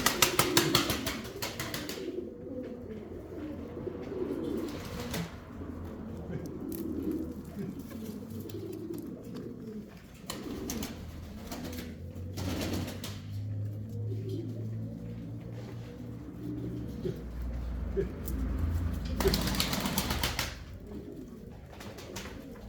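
Uzbek pigeons coo in low, rolling phrases that recur throughout, near and moderately loud, with occasional wing flaps, bursts of broadband noise, and someone talking intermittently.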